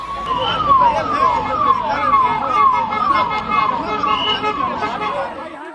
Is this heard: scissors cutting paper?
no